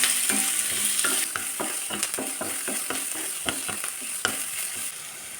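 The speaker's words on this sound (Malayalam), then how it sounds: "സവാള ചേർത്തിട്ട് നന്നായിട്ടൊന്ന് വഴക്കിയെടുക്കണം" Onions sautéing in hot oil for chana masala, stirred in the pan: a constant loud sizzle with frequent quick scraping and knocking strokes of the spoon, close up and without voices.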